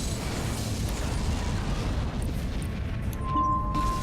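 A starship blowing up in the Star Trek Legacy video game, a deep, rumbling explosion that booms continuously and stays loud throughout, with a faint tonal beep near the end.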